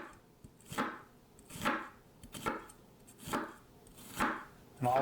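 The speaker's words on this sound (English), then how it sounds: "So we're going to cut up a half an onion here." A knife chops through half an onion on a cutting board, with about six crisp, evenly spaced strikes close by. There is no talk.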